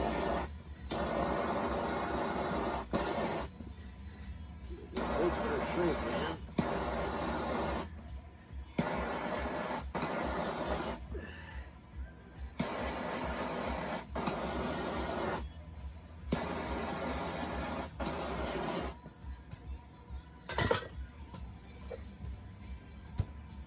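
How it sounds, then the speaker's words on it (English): Hissing torch flame heating heat shrink tubing over soldered charger lead wires, roaring in repeated bursts several seconds long separated by short pauses, loud and close. "Now we start torching this thing down because we gotta keep these wires straight in here."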